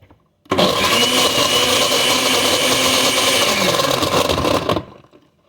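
A kitchen blender whirs loudly at a constant high speed for about four seconds while blending a slushy, then cuts off abruptly into near silence.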